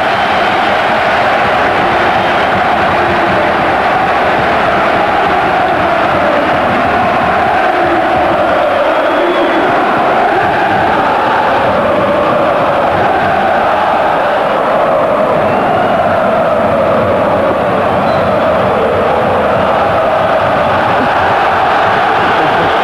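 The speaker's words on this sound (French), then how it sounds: "Les applaudissements qui saluent Rai." A large stadium crowd at a PSG vs Marseille football match keeps up a loud, continuous roar of applause and cheering for Rai at kickoff, with no clear voices standing out.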